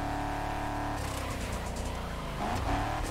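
The Eleanor muscle car in the racing game The Crew Motorfest revs hard through a four-speed gearbox, its engine note rising, dropping on a shift, then climbing again, loud and close with no talking.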